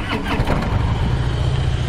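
A 2015 Harley-Davidson Softail Breakout motorcycle engine fires up, giving a brief broad rumble that quickly settles into a dense, loud low idle, close by.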